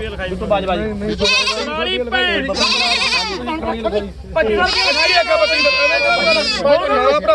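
Goats bleat loudly and repeatedly, wavering cries overlapping one another, with people talking throughout at the busy Sunday goat market in Bargari, Punjab.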